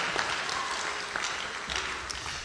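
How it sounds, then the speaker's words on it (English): An audience at the Gypsy Days 2019 coronation applauds with a steady, fairly soft wash of many hands, heard from a distance with a few sharper claps popping out. "So let's give a big hand of applause."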